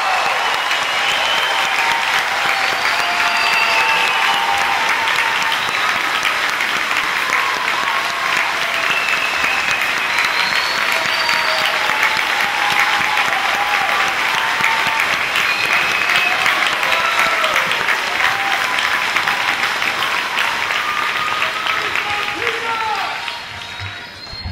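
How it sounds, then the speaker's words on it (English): A graduation ceremony audience applauds the graduating seniors of a South Carolina school's class of 2012, steady dense clapping that fills the room at full strength throughout and dips slightly only at the very end. "Let's give the seniors a round of applause."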